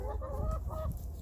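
Farmyard chickens following someone around for food give a few faint, brief clucks over low rumbling background noise.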